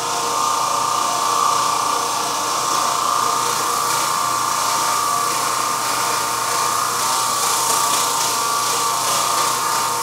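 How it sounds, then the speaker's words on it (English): An Oreck Orbiter floor machine scrubbing tile floor, a steady loud whirring and rattling drone that runs unbroken throughout with no talk. "we're now going to go back and get the Oreck and scrub this until it's perfectly clean"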